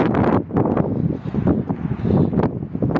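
Cold winter wind gusting outdoors near a building's chiller equipment, a loud, steady rushing roar buffeting the microphone with surging swells throughout, no voices.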